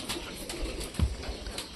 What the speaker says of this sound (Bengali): এবার আমাদের সবকটা পায়রা বাইরে আসবে